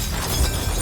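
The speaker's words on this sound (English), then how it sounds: "Strike the glass where it's weakest, near one of the bottom corners. It may take several strikes." Window glass struck with a hammer near a bottom corner, a loud bright crash of shattering glass filling the moment at close range.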